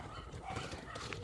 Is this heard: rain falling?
no